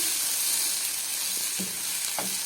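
Freekeh sautés in a pan, giving a steady close sizzle and hiss with a few soft stirring scrapes near the end, and no one speaking.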